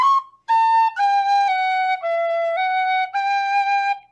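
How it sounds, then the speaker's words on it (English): Tin whistle playing a traditional Irish tune from East Galway: a clear, pure-toned solo phrase of several sustained notes stepping up and down, close and fairly loud with no other sound. "Now you know why I'm playing the whistle instead of singing"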